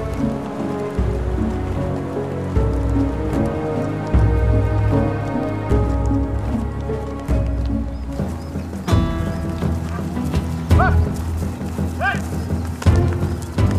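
Horses carrying riders clop along in a documentary scene about Spanish conquistadors among the Incas, steady hoof beats mixed with rain-like patter, an occasional whinny and background music.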